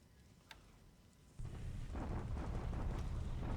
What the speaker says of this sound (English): Bombardment at Wen Chao.